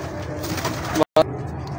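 Indian tambra pigeons coo softly and repeatedly among their loft, close by over a low background murmur, with a brief sharp dropout partway through.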